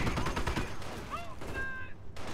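Bursts of gunfire crackle in Company of Heroes, a quick volley of shots at moderate distance, mixed with in-game voices shouting.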